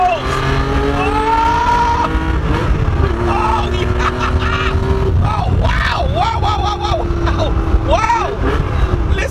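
A Porsche 911 SC engine revs and accelerates through several gears, its pitch repeatedly climbing and dropping with each shift, loud and close, as if heard from inside the moving car.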